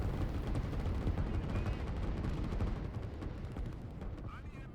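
Artillery in the strategy game Line War booms and rumbles in dense overlapping bursts of battle noise, with a voice talking over the steady barrage.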